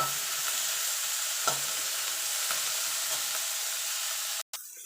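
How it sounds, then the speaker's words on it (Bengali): Potato and eggplant pieces fry in hot oil with a steady, close sizzle and occasional stirring clinks, no voices, ending in a brief cut of near silence. "দেখুন বন্ধু আলু আর বেগুনটা ভাজা ভাজা হয়ে গেছে আমি তুলে নেব"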